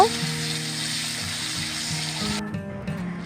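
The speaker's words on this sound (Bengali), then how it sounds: "দিয়ে দিলাম টমেটো যেন নরম হয়ে যায় তাড়াতাড়ি সেজন্য একটুখানি লবণ দিয়ে ভেজে নেব" Thinly chopped tomato frying with a pinch of salt in a pan, a steady hiss of frying with an unrelated tonal hum underneath that cuts off near the end.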